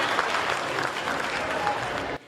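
A burst of audience applause at a patriotic poetry recitation, dense and steady clapping from a crowd, close and loud, ending abruptly after about two seconds.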